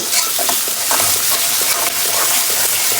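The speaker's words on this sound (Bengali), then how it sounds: "কড়াইয়ে তেল গরম করে কয়েকটা এলাচ, গোলমরিচ, লং আর 1 কাপ পেঁয়াজ হালকা ভেজে নেব" Onions, cardamom, black pepper and cloves frying in hot oil in a wok, a loud continuous sizzle with scraping stirring strokes close up.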